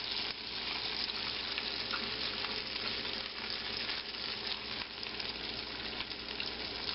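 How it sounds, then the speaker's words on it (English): Bacon frying in a hot pan for an 18th-century collops-and-eggs breakfast, a loud, steady crackling sizzle with continuous popping fat and no pauses. "As the bacon starts cooking, you turn it."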